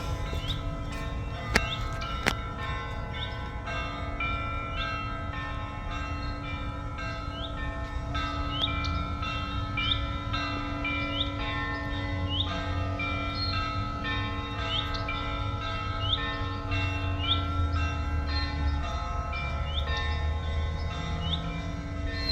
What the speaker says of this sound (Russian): Колокольный звон.